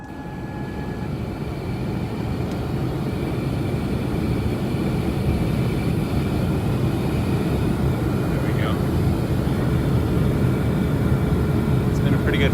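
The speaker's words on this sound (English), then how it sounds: "We're just about ready to take off." A 73-seat passenger airplane takes off, heard from the cabin as a steady, building engine roar and rumble that swells and holds loud, with a few faint clicks and chimes.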